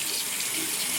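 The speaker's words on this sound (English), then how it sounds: "we're going to wait for some warm water to come" Warm water runs steadily from a tap into a sink, a continuous close hiss and splash lasting throughout with no voices.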